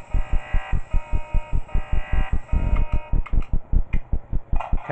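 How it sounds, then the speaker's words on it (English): An alarm buzzer in the video game Five Nights At Smudgers 2 Remastered pulses rapidly and evenly, a loud, harsh, rhythmic drone repeating about four times a second throughout, with no voices over it. "Can I turn off the alarm or no?"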